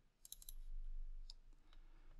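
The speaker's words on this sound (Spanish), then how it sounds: "Y ejecuto la vista inteligente presionando doble clic sobre ella." Rapid, faint mouse clicks on a computer running Revit, a quick cluster of sharp ticks followed by a couple of single clicks over a quiet room hum.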